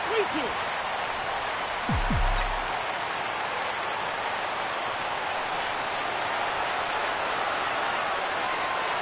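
Crowd noise in a baseball video game rises as fans get up for a full 3-2 count, a dense roaring wash of cheering that swells briefly, with a commentator's voice at the start.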